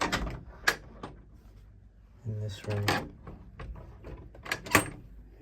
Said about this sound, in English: Once I shut this door